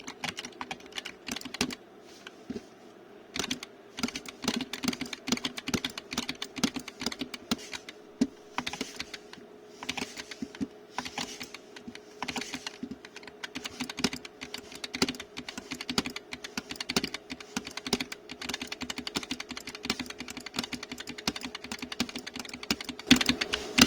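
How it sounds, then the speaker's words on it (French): Typing on a Roccat Vulcan TKL Pro gaming keyboard with Titan switches, a fast, steady run of crisp, close key clicks and clacks that goes on for the whole stretch with no talking. "Et donc voici un sound test de ce nouveau clavier."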